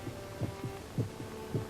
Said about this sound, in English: almost in rhythm with the beating of his own heart.